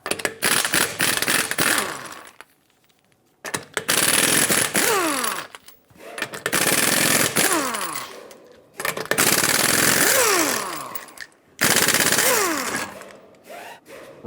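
Impact wrench with a 21mm socket rattling off the five lug nuts on a 2013-2018 Hyundai Santa Fe rear wheel, loud close hammering bursts of a couple of seconds each, with short pauses between nuts.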